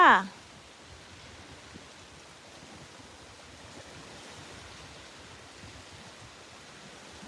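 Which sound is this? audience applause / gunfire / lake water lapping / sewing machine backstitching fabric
lake water lapping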